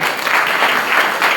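Applause during a Christmas church service, a dense steady patter of many hands clapping close by and fairly loud through the whole stretch, with no voices over it.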